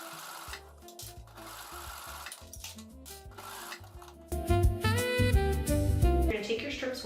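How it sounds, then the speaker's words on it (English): Sewing machine fitted with a walking foot stitching fabric, steady rapid mechanical whirring that starts soft with intermittent stops, then runs louder and continuous near the end. "I'm going to be swapping out my foot here for a walking foot, just so that I don't run into any issues as I'm sewing"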